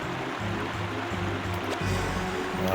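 A waterfall in the game Goosebumps: Attack of the Mutant, a steady loud rushing wash of water that persists throughout, with some low tonal game sound layered underneath.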